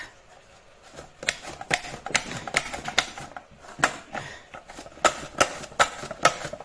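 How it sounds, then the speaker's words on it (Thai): Zucchini being chopped with a knife on a cutting board: a run of sharp, evenly spaced close knocks that grow quicker and louder toward the end, with no talking. "ตอนนี้สิมาหั่นบวบเลยจ้ะ"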